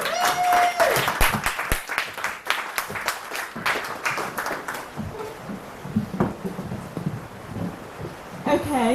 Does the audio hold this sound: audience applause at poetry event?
yes